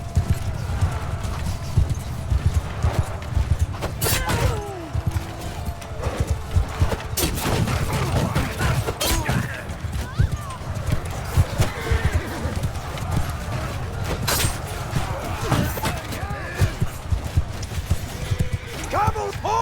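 Cavalry charging in the Mount & Blade II: Bannerlord video game, with a dense, continuous drumming of galloping hooves, occasional neighs and sharp battle clatter, while a voice talks over the din.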